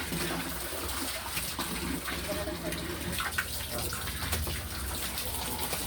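Water runs steadily from a tap with a constant rushing hiss, while voices talk intermittently nearby.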